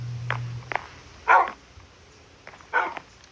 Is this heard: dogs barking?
yes